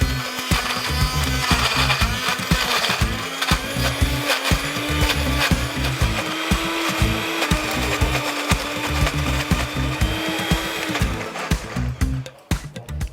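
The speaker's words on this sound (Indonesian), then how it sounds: "Oke, saatnya kita blender" Electric blender grinding a spice paste of turmeric, cardamom, cumin and oil, a loud continuous whirring roar with a steady motor pitch that runs throughout, briefly dipping near the end.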